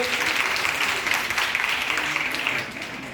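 Conference attendees at an international quantum technology meeting give a sustained, dense round of clapping to welcome a guest, steady and loud before easing slightly near the end.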